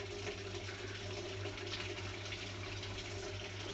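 Water pours steadily into the tub of a Panasonic 6.7 kg top-load fully automatic washing machine, a constant close rushing fill with a low mechanical hum beneath, with no talking.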